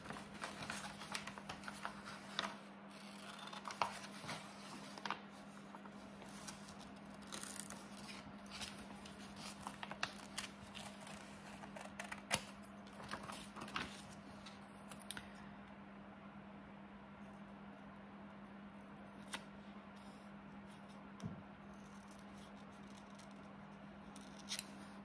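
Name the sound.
cutting paper with scissors for a collage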